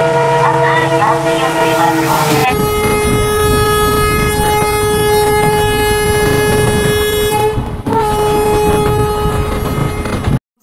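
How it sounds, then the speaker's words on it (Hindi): A loud sustained train horn in Indian Train Sim 2023, blaring near and continuous for several seconds with a brief break before sounding again, following a different horn tone at the start. "ट्रेन है यहाँ पे, हॉर्न दे के निकल रही है"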